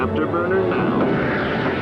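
An Avro Arrow jet aircraft engages its afterburner in a dramatized scene, a loud continuous roar with a voice over it.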